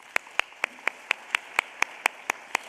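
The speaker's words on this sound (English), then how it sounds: "A big round of applause for the Performing Arts Center employees and staff" Crisp, evenly spaced claps ring out at the Teacher of the Year celebration in a performing arts center, about a dozen sharp hits in a slow, steady rhythm over a quiet room with no talking.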